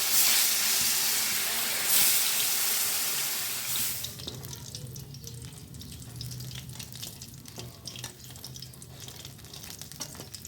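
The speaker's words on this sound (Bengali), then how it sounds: "আমাদের তেল গরম হয়ে গেছে, আমি একে একে এবার মাছগুলো দিয়ে দিচ্ছি" Fish pieces dropped one by one into hot oil in a pan, a loud watery hiss at first that settles into a steady, softer sizzle and crackle, close up with no talking.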